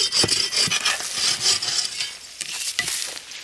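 Saw cutting through a dry, dead tree stump outdoors, a rough rasping stroke repeating in an uneven rhythm, close and fairly loud, with no talk.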